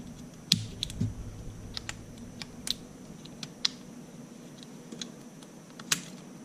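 Small clicks and plastic snaps from a Sixgill fishing reel as its side plate is released, rocked forward and pulled out to free the spool; scattered sharp ticks, close and quiet, with no voices.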